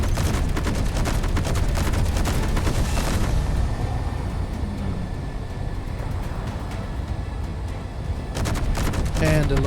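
Turrets fire in the Space Engineers game, rapid dense bursts of gunfire over a steady low engine drone, pausing midway and then resuming in quick close volleys.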